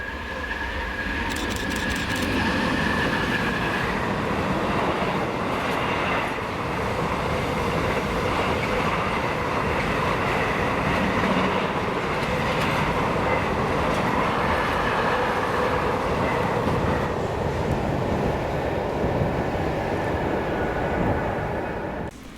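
Freight train 4S47 from Daventry to Grangemouth, hauled by locomotive 66060, rumbles past loud and steady, with a continuous roar of wagons and wheel noise and a brief high squeal near the start.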